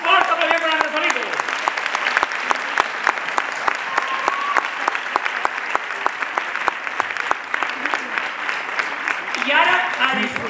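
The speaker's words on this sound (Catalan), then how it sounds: "un fort aplaudiment per en Rafalito." Audience applause for a rumba performer at a festival, steady dense clapping through the whole stretch, with a voice talking over it near the start and again at the end.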